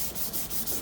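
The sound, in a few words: sanding headlight housing with sandpaper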